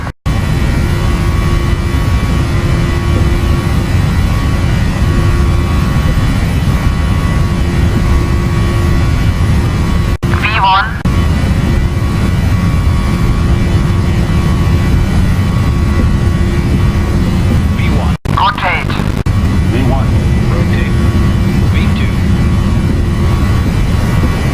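Airliner jet engines roar through the takeoff roll on a flight from Lijiang Sanyi to Lhasa Gonggar, a loud, steady broadband rumble with a thin high whine, broken twice by short clicks.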